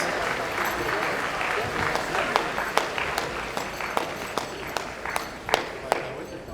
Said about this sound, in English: Round of applause for the Diamondbacks.